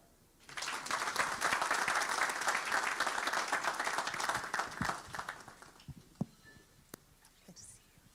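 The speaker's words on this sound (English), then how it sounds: "Another big round of applause, please, for Dr. Mshai" An audience at a national civic education convention breaks into applause that rises abruptly, stays loud and even for about five seconds, then tapers off into a few scattered claps and room noise.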